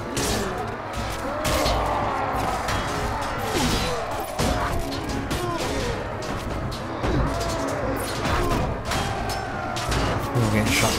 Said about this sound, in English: I'm getting shot in my back